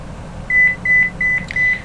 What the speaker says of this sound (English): That's actually my alarm telling me to wake up.